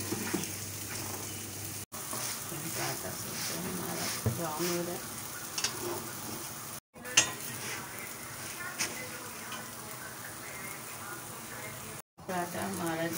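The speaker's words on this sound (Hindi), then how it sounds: "और साथ में हम थोड़ा सा उसमें ऑयल भी जो है ऐड कर रहे हैं, ऑयल जो है लगा रहे हैं पराठे में।" Paratha frying in oil on a pan in a home kitchen: a steady, close sizzle and crackle runs throughout, with occasional scrapes and clinks from turning it, and brief cuts in the sound.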